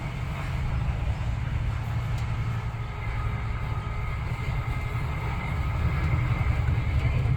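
A steady rumbling roar of Britain's oldest high-speed train rolling along the track beside the Exe estuary, continuous and moderately loud, with a faint high whine above the low drone.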